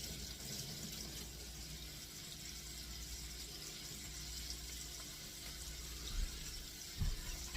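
Kitchen tap water runs into a sink while hands are washed during cooking, a faint steady hiss with a couple of soft knocks near the end.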